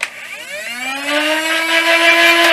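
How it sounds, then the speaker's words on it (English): Flywheel motors of a TaskQwik Nerf-style dart blaster spin up close by, a loud whirring whine that climbs steadily in pitch and then holds steady, heard on its own. "The motors do rev up pretty quickly."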